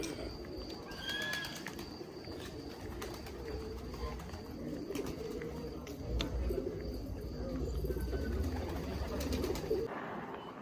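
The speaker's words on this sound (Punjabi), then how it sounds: "ਇੱਥੇ ਕਬੂਤਰ ਵਗੈਰਾ ਵਾਧੂ ਰੱਖੇ ਹੋਏ ਆ" Pigeons coo softly at a Sikh gurdwara in Karnataka amid a busy outdoor ambience, with other birds chirping and a steady low rumble of activity throughout.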